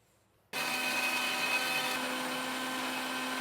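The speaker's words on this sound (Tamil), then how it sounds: "இதை மிக்சியில் போட்டு சுற்றிக்குவோம்." An electric mixer grinder starts abruptly and whirs loud and steady for about three seconds, blending a marinade of egg, oil and garlic, then stops sharply, close and alone without talk.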